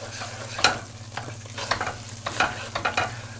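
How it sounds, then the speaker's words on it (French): Asparagus risotto with a knob of butter being stirred vigorously in a pan, a close, continuous wet sizzle broken by repeated scraping strokes of the spoon. "on mélange vigoureusement notre risotto"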